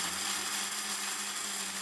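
A kitchen mixer grinder whirs at full speed while grinding red chillies with unpeeled peanuts, a loud steady motor whine with a constant rattling roar and no pauses.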